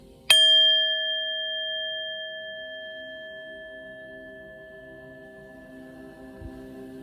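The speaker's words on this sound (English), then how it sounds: "let's ring the bell and get into your read" A single bell is struck once with a sharp, clear strike, then its pure ringing tone sustains and slowly fades over several seconds, close and alone.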